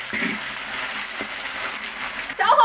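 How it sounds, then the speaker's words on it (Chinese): Dried chilies and Sichuan peppercorns frying in oil in a home kitchen, a soft steady sizzle with light stirring, ending in a brief louder clatter. "把那个干辣椒、干花椒给它弄起炒香啊"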